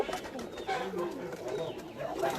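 Pigeons of a mixed Ustad Nazeer line, Heera Lal commando-type birds, coo softly in a loft with steady low warbling calls, while someone talks over them throughout.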